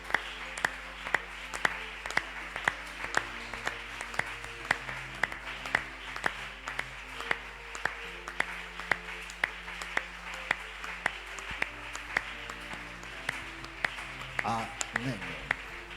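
A church congregation claps and cheers in praise, a dense steady applause of many hands with sharp individual claps throughout, over background music and voices.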